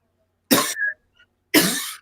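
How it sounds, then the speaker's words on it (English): Two sharp, close coughs, about a second apart, in an otherwise quiet setting. "don't cough on the mic"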